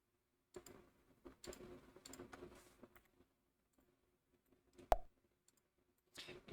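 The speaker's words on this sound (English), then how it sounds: "I can hear sometimes that my clicking on my mouse comes through in the mic" Computer mouse clicks captured by a microphone: a few quiet, sharp clicks spread out over several seconds, with one louder click near the middle.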